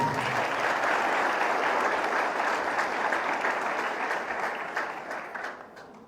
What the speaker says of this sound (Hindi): माँ जी के लिए एक दफ़ा भरपूर तालियां बजाएं